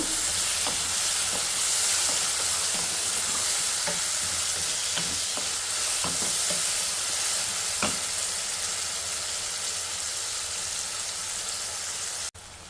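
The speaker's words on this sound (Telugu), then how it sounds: "సో టమోటా కూడా వేసి బాగా ఫ్రై అవ్వనిద్దాము." Onion and tomato frying for a ladies finger (okra) curry, with a loud continuous sizzle and occasional clicks of stirring in the pan, no talking, ending with a sudden knock.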